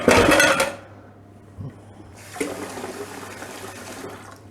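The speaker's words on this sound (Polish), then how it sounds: "Nawet tu doleję, doleję trochę wody" Tap water runs and splashes into a jar of cherries in a kitchen, a loud gush at first, then a quieter pause before the flow resumes steadily, with a low hum underneath.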